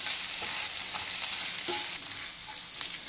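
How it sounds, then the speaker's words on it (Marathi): Ginger garlic paste sautéed in hot oil for a dhaba-style kaju masala gravy, a dense, even sizzle with occasional faint spoon scrapes, close and continuous with no voices. "आता याच्यात आपण आलं लसूण पेस्ट टाकूया। एक 5-6 सेकंद हे छान परतून घेऊया"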